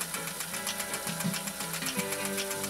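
A Pfaff 339 sewing machine stitching through tough compressed felt with wide needle swing, running as a fast, rhythmic mechanical chatter of needle strokes, close and steady.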